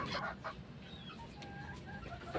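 Soft clucking from a few chickens sounds faintly over a low background hum, with occasional short calls scattered through.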